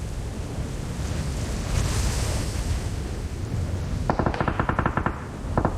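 Rapid automatic gunfire from a Bigfoot video game breaks out in a quick rattling burst near the end, after a long stretch of loud windy, surf-like noise.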